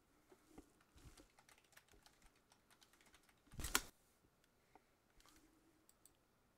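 Irregular bursts of typing on a computer keyboard, with scattered key clicks and one louder, denser flurry of keystrokes midway, close and quiet with no voices.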